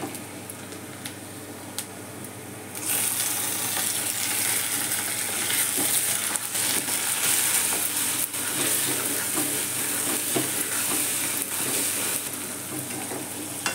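Browned onion and tomato fry in a pan for a prawn curry, first with a quieter background hiss and then a loud, steady sizzle with stirring noises, and no one speaks.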